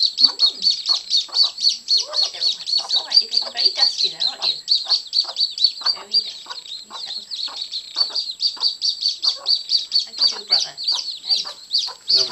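Day-old chicks taking a sandbath keep up a dense, nonstop chorus of shrill, rapid cheeps close by, with soft scratching and scuffling of sand underneath.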